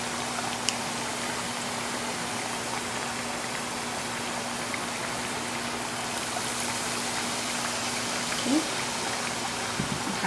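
Tap water runs in a steady, moderate wash while hands are rinsed in a home kitchen during cooking, with small splashes and a faint clink toward the end, no talking.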